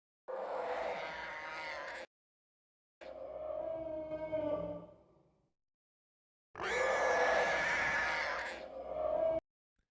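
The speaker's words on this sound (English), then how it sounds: "A 5-minute video of Wampa noises." Star Wars Wampa creature noises: three loud, drawn-out roaring growls, each lasting a couple of seconds, separated by complete silence.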